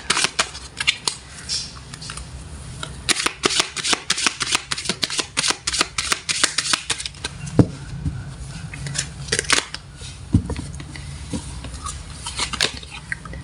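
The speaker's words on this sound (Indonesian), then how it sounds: "Fokuskan di kartu ini, saya akan mencoba menarik energi Leo semuanya." Tarot deck shuffled by hand, with rapid, crisp riffling and flicking of cards in dense bursts and short pauses, close and fairly loud, with no talking.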